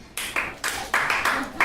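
An audience claps in several short bursts, each a quick run of hand claps that fades before the next, moderately close.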